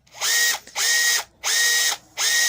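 A cordless drill with a repaired trigger switch runs in four loud, even bursts of whining motor noise, each spinning up and cutting off cleanly with short pauses between.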